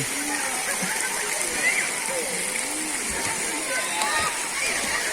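Waterfall and splashing water pour steadily into a pool at Srambang Park, fed by spring water, as a near, continuous rushing wash with a voice talking over it.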